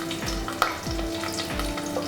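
Green chillies, onions, curry leaves and dried red chillies frying with masala in oil for prawn masala biryani, a steady close sizzle with repeated stirring scrapes.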